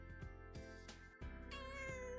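Cartoonish cat meows from the video game Persona 4 Golden, several short mews in quick succession over soft game music, fairly faint, with no talk.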